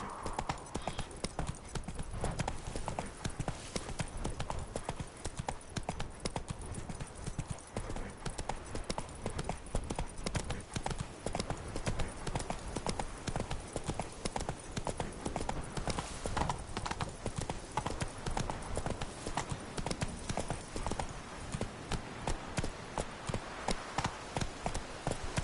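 Roach, a horse in The Witcher 3: Blood & Wine, gallops with a long run of rapid, even hoofbeats close by. Game ambience sits underneath, with occasional voices.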